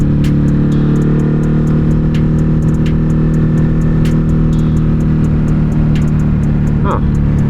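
A Ducati Hypermotard 950 RVE motorcycle rides steadily along, its engine a loud continuous drone with wind roar, close to the microphone, with no break for the whole stretch.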